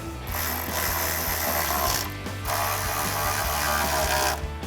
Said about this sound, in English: we're going to grab our ratchet with our 10mm socket and a 10mm wrench to hold the back side and tighten these 2 down